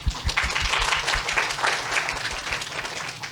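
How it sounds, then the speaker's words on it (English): Audience at a conference in Hong Kong giving a warm round of applause, dense steady clapping from many hands sustained throughout, fairly close and evenly loud. "Let us give Mr. Chu a warm round of applause."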